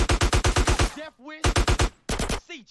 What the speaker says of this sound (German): von wo schießen die denn alle